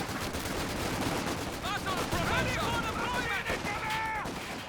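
Rapid machine gun fire and incendiary grenade bursts from a Company of Heroes 2 2v2 match form a dense, continuous wall of battle noise, with a commentator talking throughout.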